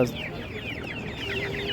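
Hens cluck at a poultry market, several birds clucking in quick repeated bursts nearby, with faint market background.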